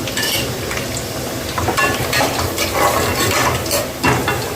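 Garlic sautéing in a pan with steady sizzling and frying, with clinks of a utensil stirring against metal throughout, close and fairly loud, no talking.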